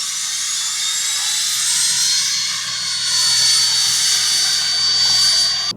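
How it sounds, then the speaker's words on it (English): A hybrid turbo on a modded 2008 Dodge Ram 2500 diesel spools up, a loud, sustained jet-like whine and whoosh that rises and falls slightly in pitch, close and continuous throughout. "you can hear the turbo spooling. It sounds like a jet engine"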